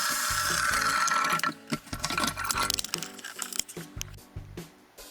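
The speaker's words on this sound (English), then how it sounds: "Use a suction pump to remove excess water." Suction pump drawing excess water out of a Bosch dishwasher being checked for a drain fault: a dense watery gurgle and slurp for the first second and a half, then broken, sputtering pulls of water and air.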